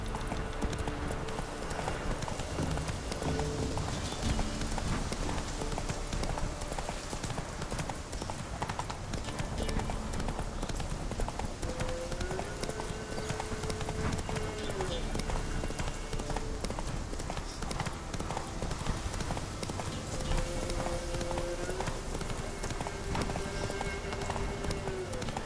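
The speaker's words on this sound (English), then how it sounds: "Oh. Horses." Horse hooves clip-clop continuously in The Witcher 3: Wild Hunt, a brisk rhythmic patter of steps over a busy game soundscape with music tones and ambient noise beneath.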